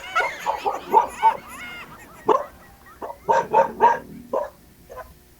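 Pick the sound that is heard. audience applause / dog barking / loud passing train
dog barking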